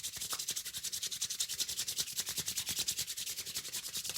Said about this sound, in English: we can even charge the hands up by rubbing them together